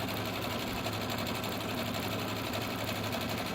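A Luminaire Solaris sewing machine runs a taper stitch, its fast steady needle clatter and motor hum continuous and close throughout, with no talking.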